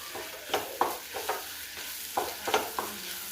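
Beef curry with turmeric is stirred in a hot pan, producing a low sizzle broken by several sharp scraping strokes of a spoon in an uneven rhythm, close up.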